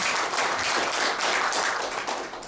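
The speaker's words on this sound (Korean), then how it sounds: "노고가 많으신 김범호 본부장님께 격려 박수 드리겠습니다." A crowd claps steadily, a dense wash of applause that holds for a couple of seconds and then begins to fade.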